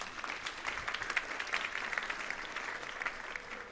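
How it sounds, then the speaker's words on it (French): Audience applause for graduates who passed the baccalaureate, steady dense clapping from a crowd filling the whole stretch at moderate level, with no talk over it. "Vous pouvez les applaudir d'ailleurs."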